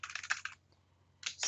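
Someone types on a computer keyboard while entering details into an online manuscript submission form: a quick burst of close, crisp key clicks, a short pause, then another run of taps, quiet and without speech.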